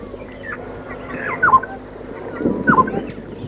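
A Burchell's starling in Botswana mimics the call of an African golden oriole, giving two short, liquid whistled phrases about a second apart, close and clear over a low ambient hum.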